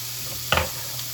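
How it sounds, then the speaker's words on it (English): Ground pork browns in a pan with a steady, close sizzle, broken midway by a short scraping clatter of a stirring utensil before the even frying hiss continues. "You gotta stir your meat. I'm gonna turn it down just a bit. But I really brown up my ground pork,"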